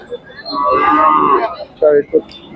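A Khillar bull at a busy cattle market lets out a long, loud moo, followed by a couple of shorter grunting calls close by, with faint crowd noise around.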